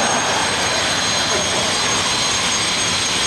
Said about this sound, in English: pay no attention to that sound, the sucking sound of the government plane